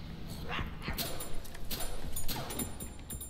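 A dog in the horror video game My Friendly Neighborhood gives short yips and barks mixed with whimpers, several close, brief bursts spread across a few seconds.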